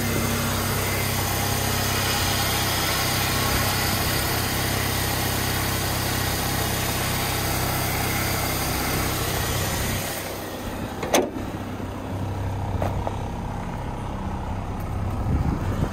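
A 2000 Chevrolet Cavalier LS with 300,000 miles idles steadily under an open hood, a continuous engine hum at close range that quietens slightly near the end, with a couple of brief knocks.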